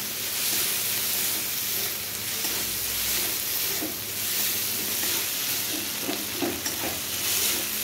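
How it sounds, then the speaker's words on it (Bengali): Chopped tomato frying in a pan, a continuous loud sizzle and hiss with occasional stirring scrapes toward the end, heard up close without voices. "তারপর ওর মধ্যে দিয়ে দেব যে টমেটো কুচিটা নিয়েছি সেইটা দিয়ে দেব, দিয়ে আবারও ভেজে নেব"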